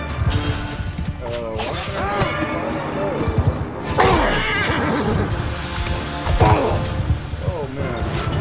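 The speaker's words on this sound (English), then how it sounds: "Oh, they got a horse." A horse neighs amid battle in the video game Mount and Blade II: Bannerlord, whinnies rising over clashing combat noise and a talking player's voice.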